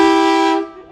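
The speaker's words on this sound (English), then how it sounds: "That's a train horn." A single loud, rich train-style emergency horn blast on the Vuoristorata roller coaster at Linnanmäki, held steady for about half a second before quickly fading out.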